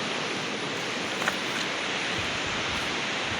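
A hill river rushes along on the route from Madegaun to Lalu, a steady broad watery roar, close and continuous, with no voices over it.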